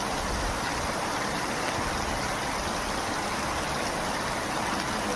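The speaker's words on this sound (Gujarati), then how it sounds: "જુઓ તમે, પાણી જ આવ્યું છે ફળિયામાં." Rainwater runs through a village courtyard in a continuous, even rushing wash of flowing water, close and unbroken, with no talk.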